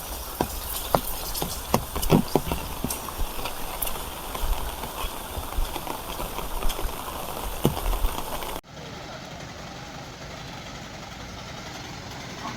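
Heavy rain pours down steadily with scattered louder drops striking nearby surfaces, then drops suddenly to a softer, even hiss for the last few seconds.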